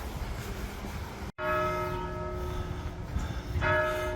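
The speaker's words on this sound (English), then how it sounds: "The bells." Church bells in Cornwall ring with sustained, overlapping tones after a brief cut, heard outdoors amid low background noise, a new strike sounding near the end.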